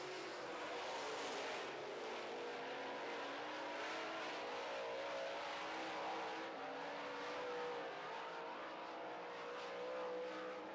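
Late model race cars roaring around a dirt oval track on the final lap of a heat race, a steady continuous engine drone with slight rises and falls, moderately distant, no talk.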